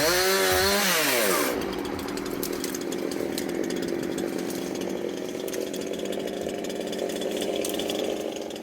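A chainsaw on a house roof during renovation work revs high at first, then drops to a steady, rough idle that runs on without a break, close and fairly loud.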